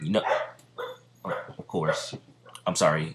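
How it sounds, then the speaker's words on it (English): Household dogs bark in short bursts indoors, mixed in with a man's speech throughout. "if you hear my dogs barking, that's why I stopped talking"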